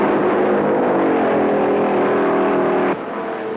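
1950s stock cars racing in the 1956 Southern 500 at Darlington, with a loud, close engine drone rising in pitch as a car roars past, then cutting abruptly to a quieter tone near the end.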